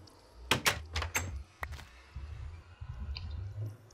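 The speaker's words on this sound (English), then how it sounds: "My other door goes right there." A wooden door is set into place in Minecraft, heard as a few sharp clicking thunks in quick succession followed by a softer knock, fairly close and distinct over faint background noise.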